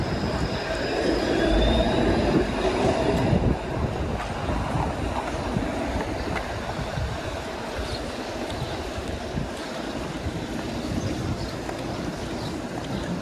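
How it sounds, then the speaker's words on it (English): A 506 Carlton streetcar passing on a Toronto street, a loud continuous rumble of wheels and motor that is strongest at first and then settles into steady traffic noise with some wind on the microphone. "Here's the 506 Carlton streetcar heading to Hyde Park."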